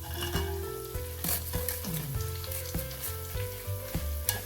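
Roasted gram and other ingredients for an aval (poha) mixture fry in hot oil, a continuous close sizzle broken by repeated scraping stirs, with no voices.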